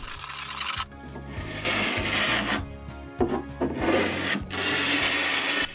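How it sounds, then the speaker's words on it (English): A hand scraper rasps old veneer off a small wooden box in repeated close strokes, coarse and gritty, broken by brief pauses between passes, with no talking. "I decided to use a scraper"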